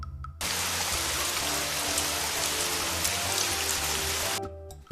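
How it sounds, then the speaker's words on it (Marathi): Steady, dense rain falls alone for about four seconds as a continuous hiss, starting and stopping abruptly with quiet gaps at each end. "पावसाच्या आवाजाला आपण रिमझिम म्हणतो"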